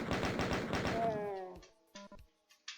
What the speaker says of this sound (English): Now switch to the chain gun.